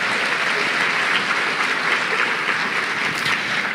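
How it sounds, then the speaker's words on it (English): Crowd at a college fall open house applauding a band, a full, continuous round of clapping that stays loud and even from start to finish. "Let's give them another round of applause."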